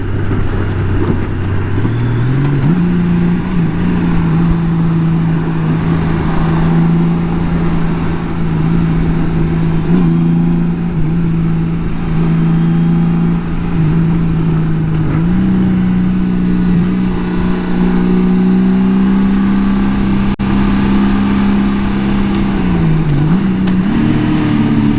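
Motorcycle ridden on the road and coming out of sport mode, its engine note climbing in pitch as it accelerates, then holding a steady drone with shifts in tone and a brief dip near the end, loud and close.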